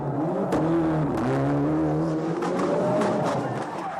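A rally car at a 1995 World Rally Championship event in Corsica, its engine loud and near, revving up and down with wavering pitch as it charges past, with sharp bursts of engine note between gear changes.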